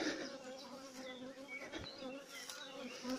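Honeybees hum in a dense, steady drone around multi-storey hives in an apiary during acacia bloom, many wings blending into one close, low buzz with a bee flying past now and then.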